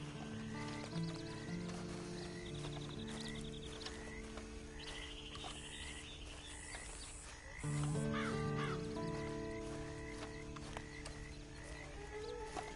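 Horse hooves clip-clop steadily in a Red Dead Redemption 2 Online scene, layered over busy ambient music and croaking frog-like calls, with a brief whinny in the mix.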